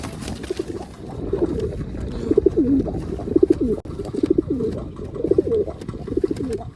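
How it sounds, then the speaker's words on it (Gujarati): Repeated soft, throaty pigeon coos in short rhythmic bursts, close by, over a low background hum. "આપણે આ એક કબૂતર છે એ બહાર કાઢી લીધો છે."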